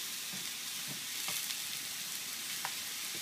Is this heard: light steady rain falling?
no